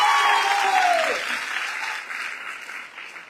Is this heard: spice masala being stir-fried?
no